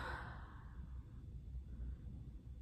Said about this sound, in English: open your mouth, open your jaw, and you're going to breathe in and out